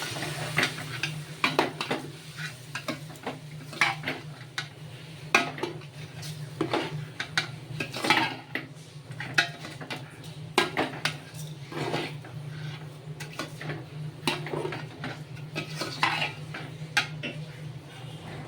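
Metal spoon scraping and clinking against a pan as Gobindobhog rice is mixed for pulao, irregular close knocks and scrapes over a low steady hum, no voices.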